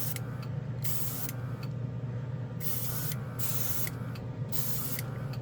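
Airbrush spraying Street Blisters hobby paint: repeated close hissing bursts of varying length separated by short gaps, all over a constant low compressor drone, with no talking.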